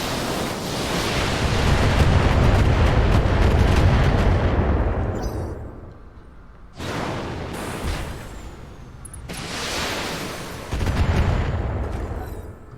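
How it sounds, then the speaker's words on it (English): Heavy weapon fire from mechs in the Battletech video game: loud, booming broadband blasts that swell and roll for several seconds, fade, then return in two more surging bursts, with no talking. "Firing on target."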